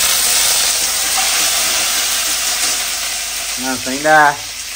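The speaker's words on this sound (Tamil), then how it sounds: "கடுகு நல்லா பொரியுது. இது கூட வந்து பாத்தீங்கன்னா கொஞ்சம் உளுத்தம் பருப்பு, சீரகம், காஞ்ச மிளகாய் சேர்த்து லைட்டா வறுத்துடலாம்." Mustard seeds splutter while urad dal, cumin and dried chillies fry in hot oil, making a loud, dense, constant sizzle with crackling pops. A voice briefly speaks near the end.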